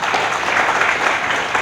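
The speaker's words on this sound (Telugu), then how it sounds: "అందరూ చప్పట్లు కొట్టండి ఒకసారి" An audience at an Ugadi panchanga reading bursts into applause, a brief dense patter of many hands clapping at once, fairly close and steady.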